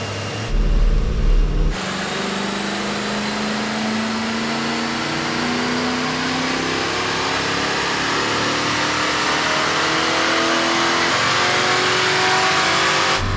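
A stock 2000 Ford Mustang GT with a 4R70W automatic transmission, in Performance Red and running on high-octane fuel, revs up on a dyno, its engine note climbing steadily in a long, loud, close pull with no talk over it.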